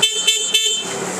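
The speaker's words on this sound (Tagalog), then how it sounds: "Busina." Horn of a 200cc G-Force ATV, 4x2, honked in three quick, loud, close blasts before fading, with no talk.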